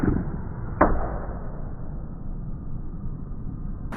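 One arrow fitted with a Magnus Stinger Buzz Cut broadhead hits an archery target, giving a short, sharp impact close by, followed by quiet background.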